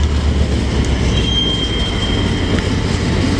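Loud, steady rumble of a freight train backing up slowly on the rails, with a thin metallic wheel squeal rising briefly over the drone.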